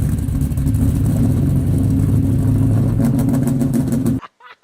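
A 6.0 liter LQ4 V8 from the LS family, swapped into a BMW, roars loudly and steadily with a deep, rumbling revving note for about four seconds before cutting off abruptly.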